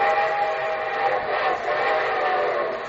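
A steady, loud train whistle blows continuously over the rumble of a locomotive, sustained for several seconds with no speech, as a radio show opening sound effect.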